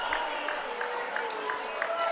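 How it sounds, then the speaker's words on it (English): A high school volleyball crowd in a gym groans and murmurs in displeasure at a referee's call during a varsity senior night match, a steady, dense roar under a commentator talking. "crowd is not happy with that call at all"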